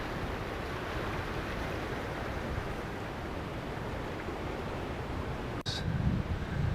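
Water rushes at the base of Split Rock Falls on a river, a steady broadband roar without pause, with a brief knock or handling sound near the end.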